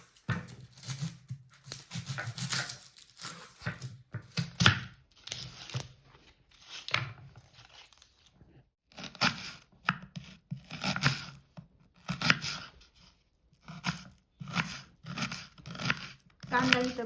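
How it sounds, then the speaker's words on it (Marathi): Onion is chopped finely on a board in a rural kitchen, giving close, rhythmic bursts of crisp cutting strokes separated by short pauses, with a person talking in between. "आता आपण कांदा बारीक चिरून घेणार आहे फोडणीसाठी"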